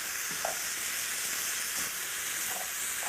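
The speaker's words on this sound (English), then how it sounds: "So this is starting to sear up." Duck confit sears steadily in a saute pan, giving off a constant bright sizzle and hiss with a few faint scrapes and stirring taps, close and alone without talk.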